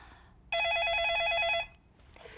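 One burst of telephone ringing announces an incoming call-in caller on a live stock-market advice broadcast, a loud, trilling electronic ring lasting about a second before it cuts off.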